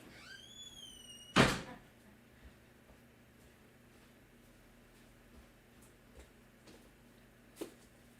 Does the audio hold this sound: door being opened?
yes